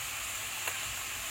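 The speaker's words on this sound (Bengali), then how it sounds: "জিরে আর তেজপাতা ফোড়ন দিয়ে দেওয়ার পরে এখানে রসুন বাটা দিয়ে দিচ্ছি।" Garlic paste sizzles in hot oil tempered with cumin and bay leaf for a Bengali chicken curry: a steady, bright hiss with one faint tap partway through.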